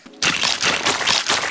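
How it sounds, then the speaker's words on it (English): The Splatoon ink brush weapon makes a wet, hissing spray sound in bursts, like ink being flung in quick repeated sweeps, loud and close. "It makes a wet sound because it's spraying ink."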